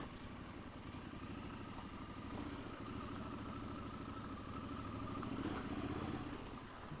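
A Triumph Scrambler 1200 motorcycle engine drones steadily while riding on gravel, a continuous mid-pitched rumble with wind noise that swells slightly toward the end, no voices.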